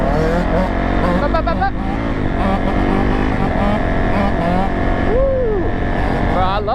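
Yamaha and Honda quads revving and drifting at a compound, loud engines rising and falling in pitch with whining sweeps as the machines pass and slide, close and continuous, with voices shouting over them.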